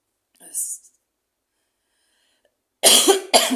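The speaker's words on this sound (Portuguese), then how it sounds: "tentei gravar 3 vezes e a tosse não me deixa assim" A woman coughs while trying to record, a short faint rasp early on, then two loud, harsh coughs close together near the end, heard close with no talk.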